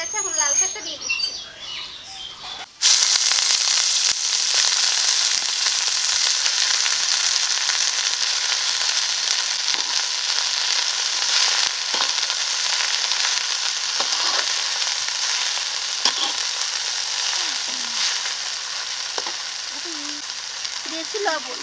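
Red amaranth greens hit hot oil already holding fried garlic, green chili and peanuts, setting off a loud, steady sizzle after a brief quieter start. The frying continues evenly with occasional stirring clicks.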